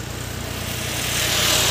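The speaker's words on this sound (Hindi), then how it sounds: "मैसी 1035 40 हॉर्स पावर ट्रैक्टर है" A Massey 1035 40 HP tractor engine labors while pulling three trolleys loaded with soil up a steep climb, a steady low drone that grows gradually louder and rougher with no talk over it.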